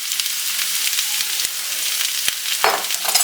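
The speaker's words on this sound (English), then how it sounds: "I'm going to give this a good stir." A spoon stirs food seasoned with paprika and pepper in a hot pan, giving steady bright sizzling with a few scraping knocks against the pan, and no voices.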